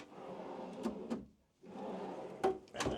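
A built-in wooden drawer in an RV slides open with a rumbling glide and soft knocks, then after a brief pause slides again with a couple of clunks.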